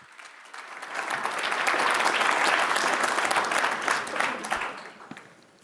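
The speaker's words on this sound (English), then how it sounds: "Let's give them a round of applause now they're here." An audience breaks into applause for a leaders panel at a Hospace 2023 conference, dense clapping swelling over the first two seconds, holding steady, then tapering off near the end.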